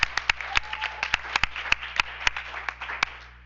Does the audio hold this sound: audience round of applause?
yes